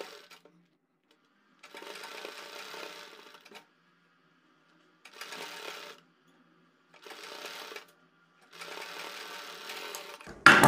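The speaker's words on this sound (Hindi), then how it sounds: "हम यहाँ पर बराबर में सिलाई लगाते हुए पूरी पाइपिंग को कंप्लीट कर देते हैं।" A sewing machine stitches black piping along a neckline in four short bursts of rapid, even whirring separated by pauses, close and clear with no talk.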